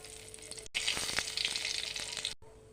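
Dried red chilies and spices frying in hot oil, a close, bright sizzle that swells into busy crackling, cut off abruptly at both ends by short gaps.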